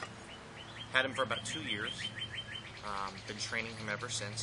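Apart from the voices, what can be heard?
birds chirping outdoors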